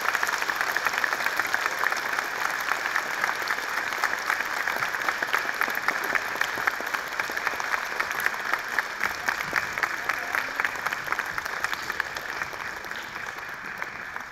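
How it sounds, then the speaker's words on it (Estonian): Audience applause fills a school jubilee ceremony at Paide Gymnasium, a steady, dense patter of many hands sustained throughout at moderate distance, fading slightly toward the end. "Aplaus ja tänu teile."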